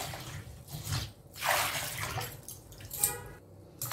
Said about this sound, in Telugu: ఇప్పుడు నీళ్ళు వేసేసుకుందాము.